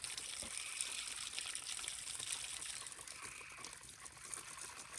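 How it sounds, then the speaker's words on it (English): A machine sprays and sucks water, giving a steady, faint hiss and trickle of liquid under low background noise. "it should stop sucking water, or stop spraying water and start sucking water"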